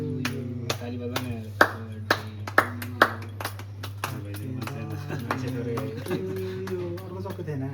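People clap in a steady rhythm at a birthday celebration. The sharp, evenly spaced claps sound over a sustained low tone and voices.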